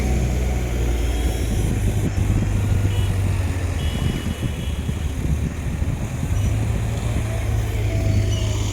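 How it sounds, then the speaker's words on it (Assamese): A motorbike rides across a dry riverbed on the bank of the Brahmaputra, its engine a steady, fairly loud drone that rises and falls slightly over the whole stretch. "এয়া বাইক লৈ কোনোবাই গৈ আছে চাওক নদীৰ মাজেদি"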